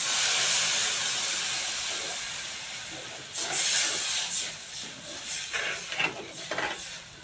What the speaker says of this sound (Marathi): आता पाणी टाकायले.